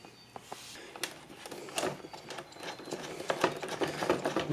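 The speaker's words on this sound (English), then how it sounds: "Let me just unscrew the speedometer cable here at the top." Speedometer cable being unscrewed at the top of a 1988 Honda Elite scooter, a close series of small metallic clicks and ratcheting ticks, irregular and moderately quiet, with no talking.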